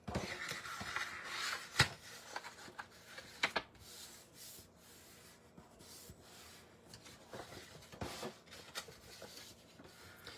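Paper being folded and creased by hand for a homemade gift bag, a steady soft rubbing and rustling with a few sharper crinkles, close and quiet with no voices.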